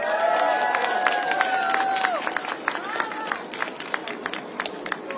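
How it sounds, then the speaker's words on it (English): A crowd at a rally in Washington DC marking one year of the Russia-Ukraine war gives a dense wash of applause and cheering that thins into scattered claps, heard alongside voices and a sustained tone. "Round of applause."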